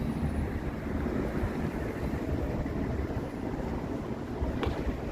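A chilly evening wind blows on a walk through downtown Toronto, a loud, steady rumbling buffet across the microphone that runs without a break and masks other sound.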